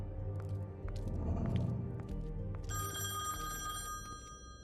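A stock business telephone ring plays as a sound effect in a Woodlands setting during a game stream, steady repeating electronic ring tones entering partway through over a constant low background hum.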